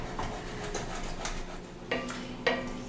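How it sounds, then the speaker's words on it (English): Wine being stirred in a pan while bits are scraped off the bottom during braised chicken cooking, with light clinks and scrapes of a utensil against metal, a couple of sharper knocks near the end. "just moving it all around, like I said, scraping the bits off the bottom"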